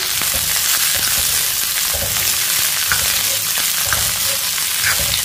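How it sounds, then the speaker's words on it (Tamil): Chopped pirandai sautés in sesame oil in a kadai, giving a loud, continuous sizzle and crackle close up, broken by occasional stirring scrapes. "நல்லா வதக்கிக்கிடுவோம்"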